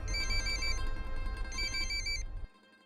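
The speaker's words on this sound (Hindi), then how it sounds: "असली जिशान का फोन था" A phone ringtone plays a bright, repeating electronic melody, loud and close, then cuts off abruptly near the end, leaving quiet. No one speaks.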